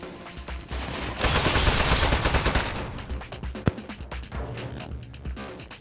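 Turret gunfire in the video game Desk Job, a loud burst of rapid fire peaking in the middle, then scattered single shots and clatter trailing off.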